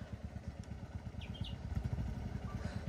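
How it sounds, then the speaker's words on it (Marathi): Several motorbikes, one of them a Royal Enfield, pulling slowly up a very rough, bumpy road near the Kalu waterfall and Malshej Ghat, with a steady low engine rumble and clatter that stays close and fairly loud throughout. "आता कशा आपल्या बाईक येत आहेत बघूया."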